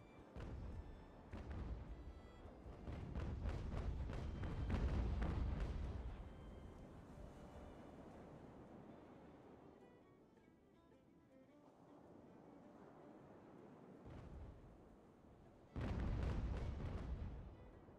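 Deep booming blasts of ship cannon fire in the naval video game Ultimate Admiral: Age of Sail come in heavy clusters, with quieter rumbling gaps between volleys and a final loud burst near the end.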